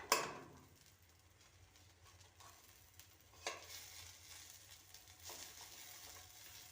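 A Maggi noodle omelette frying in a pan while it is flipped, with a faint steady sizzle, a sharp scrape at the start, and a few soft spatula knocks.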